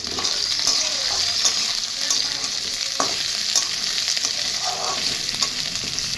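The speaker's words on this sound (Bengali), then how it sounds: "আলুটা একটু ভেজে নেবো, তারপরে শসাগুলো দেবো।" Potatoes fry in a hot pan with ginger and green chilli, giving a continuous bright sizzle broken by repeated scraping stirs, with no talking.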